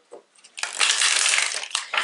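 A deck of tarot cards is given a quick shuffle, a close, crisp burst of riffling card noise lasting about a second after a few short rustles, with a brief flutter at the end.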